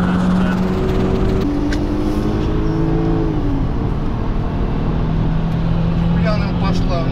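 A Skoda Octavia A7 1.8T pulls hard in a race against other cars, its engine note rising through gears with audible shift drops, loud and close over rushing road and wind noise, with voices talking inside.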